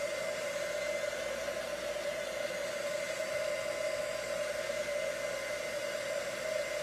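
A hair dryer blows continuously to dry watercolor ink on paper, a steady close whooshing with a constant whine and no change in pitch throughout.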